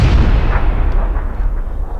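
A grenade blast in the PUBG battle royale game, heard as a loud, deep rumbling boom that fills the whole moment and slowly fades, with no voices.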